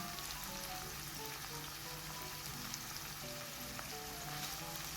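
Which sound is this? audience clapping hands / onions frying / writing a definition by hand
onions frying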